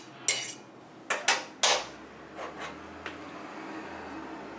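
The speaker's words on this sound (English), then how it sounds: "go ahead and just use a fork to fluff it up" A fork fluffing cooked basmati rice in a pot, with several close, crisp scraping strokes in quick bursts, then softer scrapes trailing off into quiet room tone, no talking.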